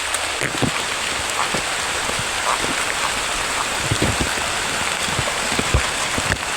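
Steady rain falls at an open-air river swimming spot in Sibuho, a dense continuous patter of drops with scattered louder close splashes, no voices.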